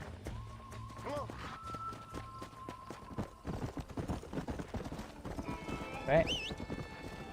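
Horse hooves clip-clop in Red Dead Redemption Remaster, a steady trotting rhythm under in-game music and a whinny near the end, with someone talking over it.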